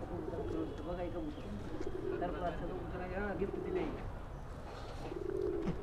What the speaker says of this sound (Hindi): हल्की गुलाबी लाल डोरे का कबूतर, बहुत ही अच्छा कबूतर है दोस्तों, अलाहाबादी कबूतर